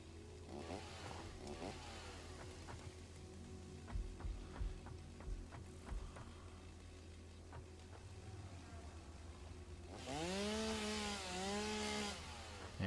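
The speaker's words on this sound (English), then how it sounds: "This is why we use the chainsaw." Chainsaw cutting trees in the video game Satisfactory, revving and buzzing in steady bursts, with a louder rising whine near the end over a constant background hum.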